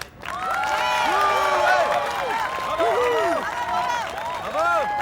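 A crowd applauds and cheers the coaches, with a dense, steady wash of clapping laced with shrill whistles and rising shouts. It stays loud and continuous for the whole stretch.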